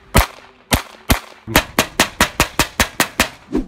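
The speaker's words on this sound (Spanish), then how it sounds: "Un arma de fuego al disparar usualmente genera entre 140 a 120 decibeles" Sharp gunshots ring out, a few spaced shots followed by a quicker rapid series, loud and close with short echoing tails.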